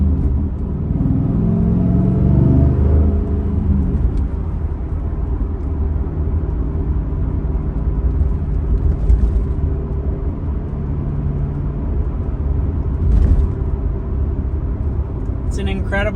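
A 2002 Pontiac Trans Am WS6 with 8,100 original miles and skip shift enabled, out on a drive: its engine holds a steady, low, rumbling drone from inside the car, with a brief flare of higher noise near the end.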